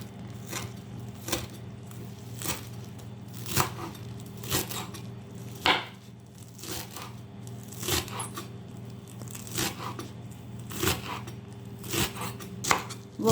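A knife chops washed parsley for tabbouleh salad on a board, with steady close rhythmic blade strikes, some quicker runs and short pauses, and no talk.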